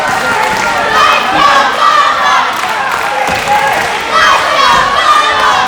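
A wrestling crowd at a Contender's Cup event cheers and shouts loudly in a sustained, swelling roar with rhythmic surges, and a commentator's voice sits beneath it.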